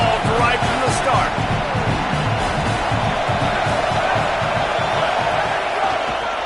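A home crowd roars steadily at an Oklahoma football stadium, a dense continuous wash of cheering and shouts filling the whole stretch, with a commentator's voice faintly under it.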